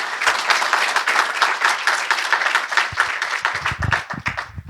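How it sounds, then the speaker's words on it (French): A conference audience applauds the speakers after a round-table debate on animal welfare at SPACE 2021. The sustained clapping rolls on for several seconds, then thins into a few scattered claps at the end. "je vous remercie d'applaudir nos intervenants pour la qualité des présentations que nous avons eues"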